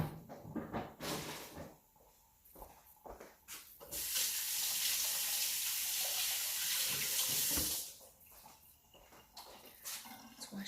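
Water runs steadily from a kitchen tap for several seconds as hands are washed while cooking tacos with guacamole, bracketed by brief clattering and handling sounds before and after.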